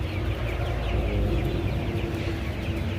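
About five hundred Kaveri gavran chickens on a poultry farm clucking together nonstop, a busy overlapping chorus heard close up with a low background rumble.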